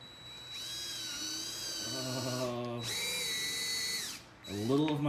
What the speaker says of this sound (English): A little of my soul dies every time that drill goes in.